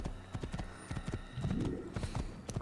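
Horse hooves in the Assassin's Creed video game, a quick, irregular run of close clip-clops with a brief snort partway through and no talk.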